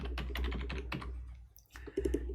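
Computer keyboard typing in a series of quick, close key clicks with a brief pause before a final burst, no talk, over a steady low hum.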